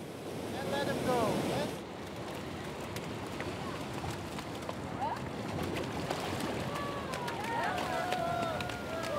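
Ocean surf washes steadily at a turtle release site on the shore of Curaçao, a broad continuous roar with wind buffeting the microphone, while people talk and call out over it throughout.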